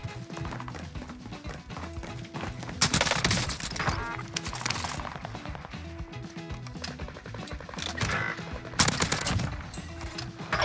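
Rapid nail gun fire in Call of Duty Warzone on Vanguard's Rebirth Island rattles in dense bursts of sharp shots, loud and continuous, layered with other gunfire and game effects.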